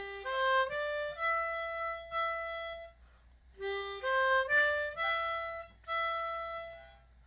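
Harmonica notes on holes 3, 4, 4, 5, 5, a rising run of clear reedy tones played twice with a short pause between phrases, close and alone.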